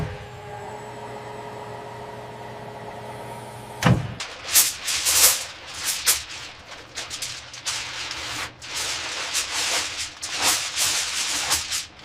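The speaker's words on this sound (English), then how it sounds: "Lubricating the ejection seat rails. This thin coat of lithium grease is critical for the mechanism's instantaneous deployment." Lithium grease is worked along the ejection seat rails of an SU-35 fighter jet in a factory, producing close rubbing, scraping strokes that follow a steady mechanical hum which cuts off partway.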